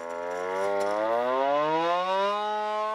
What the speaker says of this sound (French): Une sirène donne même l'alerte.